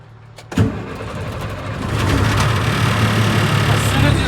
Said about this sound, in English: As soon as you start the engine